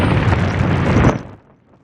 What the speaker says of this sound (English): causing an explosion.